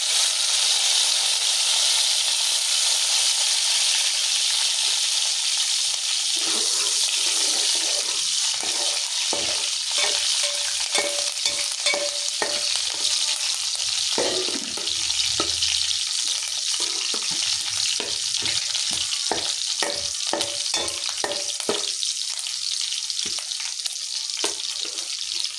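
Onions and cumin seeds frying for a tempering in a pan while making tomato chicken curry, a continuous bright sizzle with scattered clicks and spoon taps toward the end, no talking.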